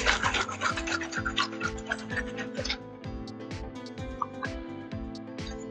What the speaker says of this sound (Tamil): இப்போது இந்த சால்ஸ் எல்லாமே டிசால்வ் ஆகிற வரைக்கும் நம்ம ஷேக் பண்ணிக்கலாம்.